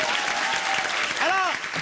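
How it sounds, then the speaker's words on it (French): Studio audience applause fills the stretch as a dense, steady wash of clapping, with a voice briefly speaking over it near the end. "On va l'applaudir."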